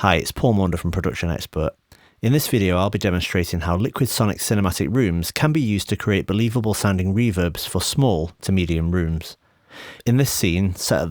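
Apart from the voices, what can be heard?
No everyday noises stand out.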